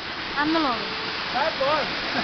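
A waterfall and streams in Polo Forest near Vijaynagar, Sabarkantha, make a steady, loud rushing wash of water while someone speaks over it.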